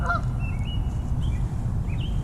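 Geese honk several times over steady low rumbling background noise at flooded Skokie Lagoons, heard from a kayak, the calls fairly faint and spaced out.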